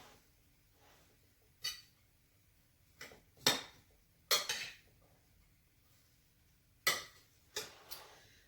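Utensil clinks and scrapes against a bowl as ingredients are mixed together, several separate clattering strikes spread irregularly over quiet background.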